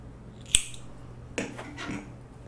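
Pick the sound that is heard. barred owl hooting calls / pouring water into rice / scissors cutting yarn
scissors cutting yarn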